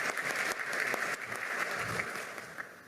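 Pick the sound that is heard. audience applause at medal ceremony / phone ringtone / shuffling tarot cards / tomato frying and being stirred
audience applause at medal ceremony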